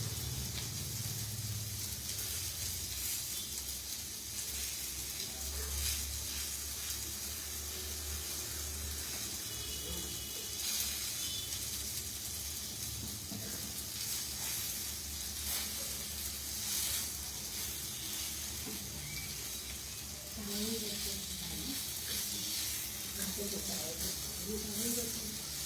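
Food sizzling in hot oil until golden brown, a steady hissing fry with occasional stirring, while a person talks over it.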